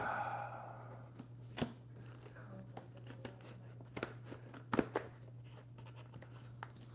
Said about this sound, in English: I'm not gonna rip it, I'm gonna use the scissors